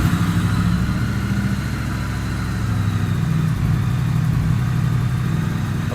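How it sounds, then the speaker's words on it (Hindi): A superbike with its stock exhaust fired up and idling close by, a steady, loud low-pitched engine rumble with slight throttle variation throughout, and no talking. "आपको फायर अप करके इसकी आवाज़ सुनाता हूँ कि कितनी मीठी आवाज़ है।"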